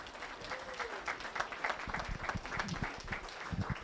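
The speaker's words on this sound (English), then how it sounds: "let's give Megan a big round of applause" A crowd at a speedway banquet applauds for Megan, dense steady clapping of many hands filling the room at a moderate level, with a few louder claps standing out near the end.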